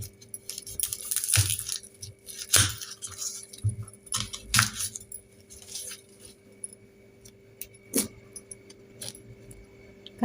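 A knife finely chops onion on a board for a fresh cashew-nut curry, making quiet, sparse, irregular taps and clicks with long near-silent gaps between cuts.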